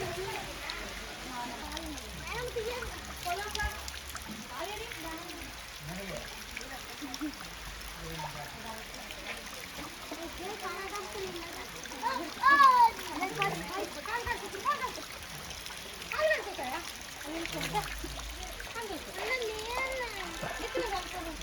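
Rushing waterfall streams splash continuously in the background at Srisailam while several people talk nearby throughout.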